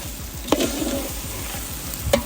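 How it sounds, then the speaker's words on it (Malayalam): Ginger-garlic paste and onions fry for a large batch of Kerala beef curry, a constant close sizzle broken by a couple of sharp utensil scrapes as the mixture is stirred. "നമുക്ക് നല്ലോണം ഇളക്കി ഇളക്കി ഇളക്കി ഇതൊന്ന് മൂപ്പിച്ചെടുക്കാം"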